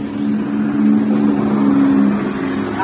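A Yamaha RX King motorcycle runs after extreme porting, giving a close, steady, throbbing engine drone that swells slightly mid-way and holds alone without talk.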